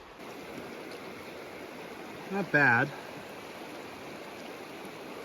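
Flowing stream water in a mountain valley in the Dolomites, a steady broadband rush heard continuously and fairly close, briefly interrupted by a short spoken phrase.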